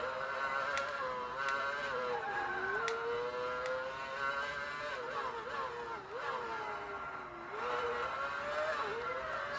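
Race car braking hard into sharp corners, a continuous engine whine that drops in pitch on braking and climbs again on acceleration, repeating through several corners, steady and close, no talking.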